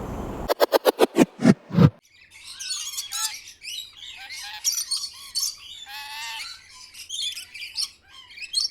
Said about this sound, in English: it's a very pretty bird just there